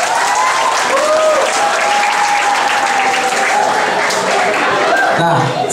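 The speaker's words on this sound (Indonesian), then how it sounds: "Tepuk tangannya dulu dong," An audience applauds and cheers at a film event in Indonesia, a dense, steady wash of clapping with voices mixed in that carries on throughout.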